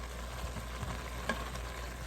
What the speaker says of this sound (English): It's still gonna be sizzling for about a minute or so.